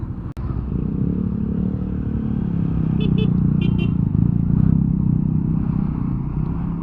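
Road traffic in Tagaytay City, a steady, loud drone of car and motorcycle engines passing close by, with a few brief horn toots midway and a sharp knock near the start.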